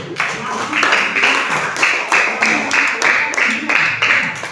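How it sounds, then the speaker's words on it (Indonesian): Classroom of students clapping hands together, a rhythmic series of loud claps repeating in bursts, close by and fairly steady, with some chatter underneath. "Oke, tepuk tangan semuanya."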